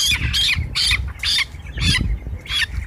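A broiler chicken on a poultry farm squawks sharply while getting an eye-drop vaccine, with about six loud, close, harsh cries coming in quick bursts and no talk.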